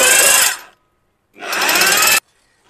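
A power drill fitted with a number 10 bit runs in two loud, close bursts, pausing between them, as it tightens the bolts on a DTH satellite dish mount, with no talk.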